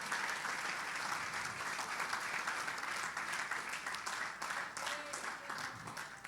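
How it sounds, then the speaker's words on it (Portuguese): A church congregation applauds during an evening teaching service, a steady wash of many hands clapping together that holds at an even level for several seconds before thinning slightly at the end. "Quem pode dar uma salva de palmas para o Senhor nessa noite?"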